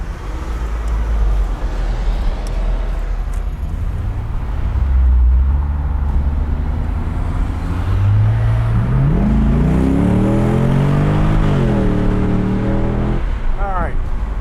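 A 2008 Corvette coupe engine revs steadily up to its 6,500 RPM redline, pitch climbing then dropping as the automatic transmission shifts, heard close and loud from the cabin over road noise.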